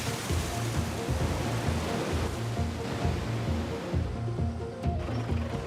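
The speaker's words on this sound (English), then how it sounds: "Fill it up full of water until we get the sphere to float." Water rushing steadily into a submarine pressure test chamber, a dense, loud, continuous pour that thins slightly toward the end, with a low mechanical hum beneath.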